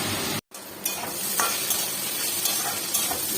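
Carrots fry in oil until soft, giving a close, continuous sizzle punctuated by several light stirring scrapes after a brief cut to silence at the start.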